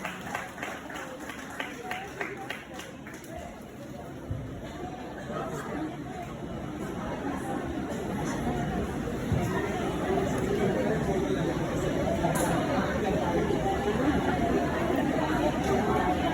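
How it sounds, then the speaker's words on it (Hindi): An audience welcoming guests at an honouring ceremony, with a dense, steady wash of clapping that grows louder and fuller over time, mixed with crowd chatter throughout. "तालियों की गड़गड़ाहट से स्वागत"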